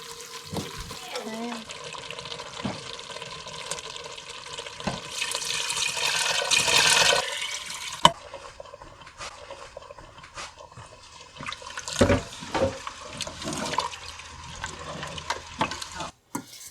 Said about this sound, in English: we're going to put the rest of the broth into the pot